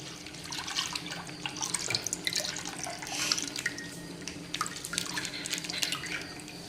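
Milk pours into a pot while payasam is being made, a steady splashing, trickling stream of liquid that carries on without a break, with no talking.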